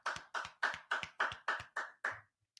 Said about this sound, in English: Clap that up. Give that a hand.